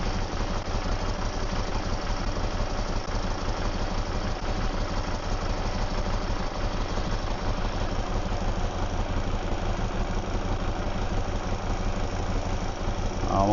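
A Yamaha V Star 650 motorcycle engine idles steadily with the choke on, a close, loud, even thrumming that holds without a break, no voices over it.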